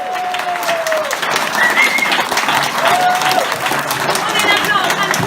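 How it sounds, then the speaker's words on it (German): Audience applause at a science slam on an outdoor festival stage in a student park in Oldenburg, steady dense clapping from a crowd with some cheering and a voice briefly over it. "Ein Applaus für Jau!"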